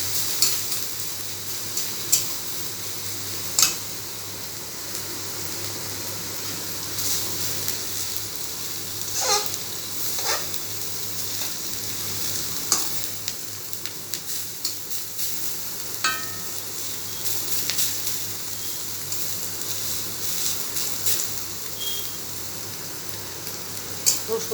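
Onion and garlic frying in a pan make a steady close sizzle, with occasional scrapes and clinks of a spoon stirring, and no talking.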